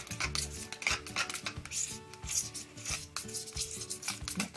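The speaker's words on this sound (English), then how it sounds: "Mix it all in really well." Screen printing ink being mixed in a container, with close, repeated scraping and clinking of a tool against the sides in an uneven stirring rhythm and no talking.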